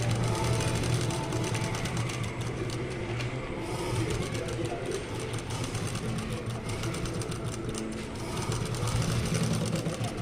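Sewing machine stitching palazzo pants, a steady, close mechanical whir with rapid needle chatter running continuously and evenly throughout.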